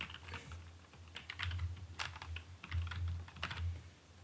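Fingers typing an email address on a computer keyboard, quick irregular clusters of soft key clicks close by, quiet and without talk.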